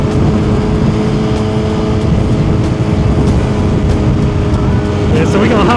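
A car drives onto a freeway, its engine and road noise forming a loud, steady rumble with a faint rise near the end, heard from inside the vehicle with no voices.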